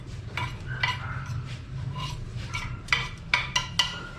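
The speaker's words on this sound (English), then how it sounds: "I'm gonna throw the onions, the garlic." Chopped onions and garlic go into a home cooking pan, followed by steady scraping and stirring with repeated sharp metal clinks of a utensil against the pan, closing with several louder taps, with no talking.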